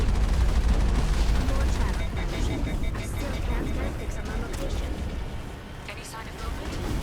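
Continuous rumbling gunfire and combat noise from the Mass Effect video game plays loudly throughout, with faint voices under the din.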